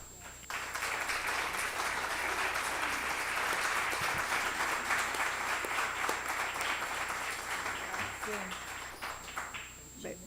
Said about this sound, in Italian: penso che l'applauso era anche per te